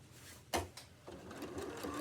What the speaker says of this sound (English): I just move the fabric through gently so that I can keep sewing forwards.